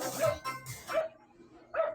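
A dog barks several times in quick bursts, fairly close, with brief pauses between barks.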